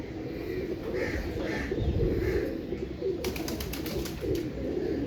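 A pigeon of the Imam Deen breed coos in low, repeated rolling calls near a loft, with a sharper burst of bird noise partway through and no talk over it.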